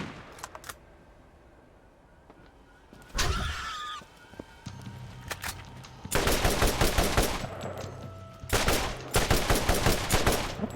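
Weapon fire from the video game Borderlands starts with a brief shot early on. Rapid automatic gunfire then bursts loud and sharp in the second half, in two long volleys with a short gap between them.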